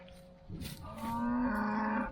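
A cow lets out a long, low moo up close, rising and holding before trailing off, with faint rustling before it.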